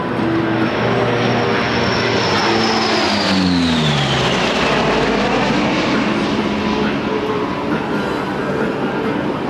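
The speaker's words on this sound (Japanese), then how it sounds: "the pilot flying the P3 today during the demonstration, Captain Daisuke Maeda" A P-3 Orion four-engine turboprop aircraft makes a loud low pass at an air show at Atsugi, its droning roar sweeping past with a falling pitch as it goes by, powerful and close.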